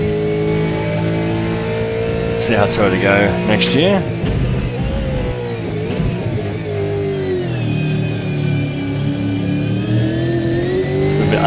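A Gen3 V8 Supercar engine in Assetto Corsa revs and shifts, its rising and falling tone steady and loud throughout, with someone talking over it.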